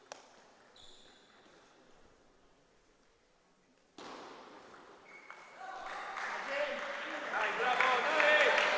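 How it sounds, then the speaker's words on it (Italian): A player on the far side of a table tennis hall claps during a men's top-league match, Cagliari against Muravera. A few faint ball pings sound over a quiet hall, then dense clapping breaks in and swells steadily louder to the end. "L'applauso di Rossi dall'altra parte che ha iniziato il suo riscaldamento."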